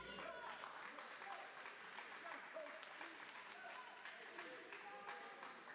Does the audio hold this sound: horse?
no